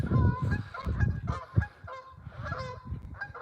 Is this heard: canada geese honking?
yes